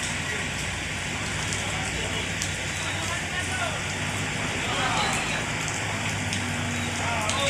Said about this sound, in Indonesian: Suasana hujan ya teman-teman ya.